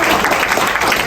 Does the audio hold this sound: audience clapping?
yes